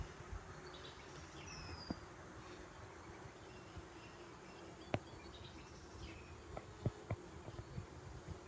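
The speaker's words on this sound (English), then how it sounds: "There's a lot of bees on here." A steady, faint hum of many honeybees runs throughout during a nucleus hive inspection, with a few soft clicks and knocks scattered through the second half.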